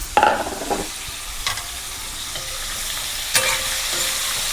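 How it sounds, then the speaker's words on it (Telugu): Dried fish frying in hot oil gives off a steady, close sizzle, with a few scraping stirs of a spatula at the start and again near the end, and no voices. "ఇప్పుడు ఈ నెత్తళ్ళు ఆయిల్లో ఫ్రై చేయాలి."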